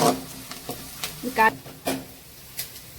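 Onions sautéing in a pan for a meal maker gravy, a short close sizzle broken by a few brisk stirring scrapes and taps.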